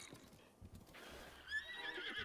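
A horse in the video game Zelda: Breath of the Wild gives a short, high whinny over soft clip-clop hoofbeats, all fairly quiet and without talk.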